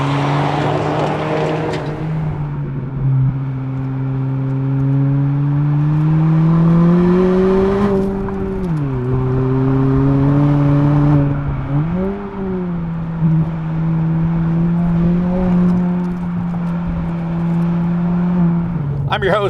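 A 2022 Honda Civic Si with a manual gearbox drives along, its engine droning steadily, pitch rising through revs, dipping sharply at a gear change around the middle, then climbing again, with a loud, constant road and cabin roar throughout.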